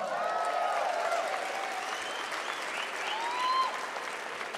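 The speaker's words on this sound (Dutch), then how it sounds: "Een geweldig applaus voor de jonge, fijne rapperes van Knokke" A concert crowd applauds a young rapper from Knokke at a Lage Landen session, a steady, fairly distant roar of clapping with some cheering and whistles rising near the end.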